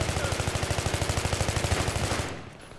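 Automatic gunfire in Battlefield 3, a fast, evenly spaced burst of loud close-range shots that runs for over two seconds before cutting off.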